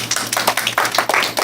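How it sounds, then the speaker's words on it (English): Audience applause for a speaker at a real estate investment club meeting in Arima Public Library, a short burst of uneven, closely spaced clapping from a modest crowd. "Give Tammy a round of applause"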